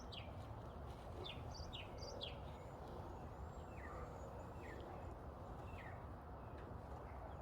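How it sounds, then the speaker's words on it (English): Short chirping bird calls repeat outdoors in a garden, several brief tweets scattered at a moderate distance over steady background noise. "Hear the bird?"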